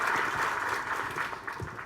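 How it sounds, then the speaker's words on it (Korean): Audience applause for two guests at a youth lecture event hosted for a politician, steady dense clapping from a crowd filling the room, holding evenly for the whole stretch with no voices on top. "두 분께 큰 박수 부탁드립니다"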